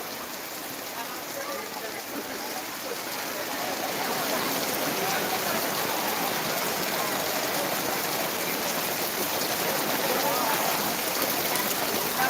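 Steady rain hisses down continuously over a weekly market in Kundurpi, a dense, even wash of falling drops that swells slightly louder partway through.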